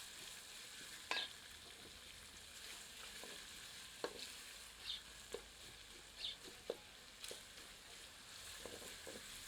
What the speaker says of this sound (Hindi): इसे अन्य सामग्री के साथ मध्यम आंच पर सुनहरा दिखने तक भून लेते हैं।